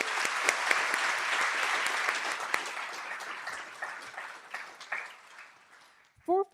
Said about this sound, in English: If you can join me in a round of applause for them.